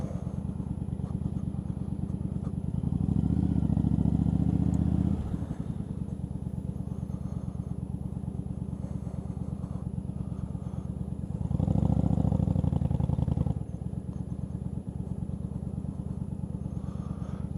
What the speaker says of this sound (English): the longer pipes, usually found on Harleys, sporting fishtails and so forth, have the deeper notes